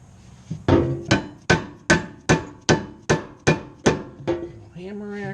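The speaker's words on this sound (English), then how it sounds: "Hammer action." A hammer strikes about ten times in a steady, even rhythm during a tow hitch install on a Kia Soul, each blow sharp and ringing, close by and loud.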